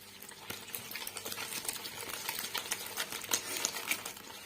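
Egg yolks being mixed for sablé dough, heard as quick, rapid clicking and tapping of a utensil against a bowl, fairly faint.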